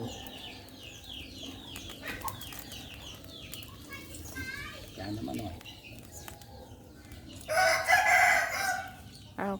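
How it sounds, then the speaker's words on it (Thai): Chickens and a rooster calling at dusk in a rural Thai village, with a crow and scattered clucks amid other birdsong, building to a louder burst of calling near the end. "ไก่มันเรียกเพื่อนนอนแล้วจ้ะ"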